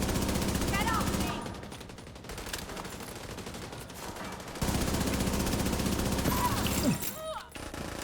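Sustained video game gunfire with rapid automatic bursts and repeated shots, steady and fairly loud throughout with brief dips, and faint voices mixed in.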